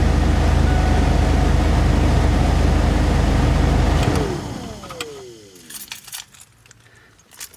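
A car engine runs loudly and steadily at close range during an HVAC vacuum diagnosis, then cuts out about halfway through and winds down into quiet, sparse clicks.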